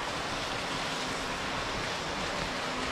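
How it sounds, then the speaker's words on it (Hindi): An artificial waterfall at Dubai Quranic Park gives off a dense, unbroken rush of splashing water, loud and close, with no voices over it. "ये वाटरफॉल बनाई है मैंने"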